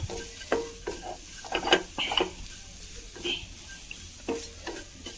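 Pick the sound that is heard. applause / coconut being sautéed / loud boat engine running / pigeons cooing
coconut being sautéed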